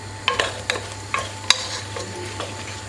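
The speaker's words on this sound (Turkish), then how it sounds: "Soğanlarımız kavruluyor" Onions fry and sizzle softly in a pot for Turkish turkey bulgur pilaf while a spoon scrapes and clatters against it in a few sharp strokes.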